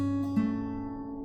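Guitar picking pattern, plucked notes with a thumb-played low note on the bass string, a few clear picked tones ringing out and decaying, close and alone.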